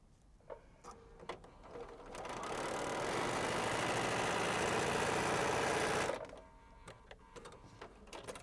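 Sewing machine stitching quilt pieces together, with a continuous whirring run of about four seconds between quieter clicks and handling noises.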